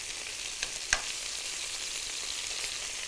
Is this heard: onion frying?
yes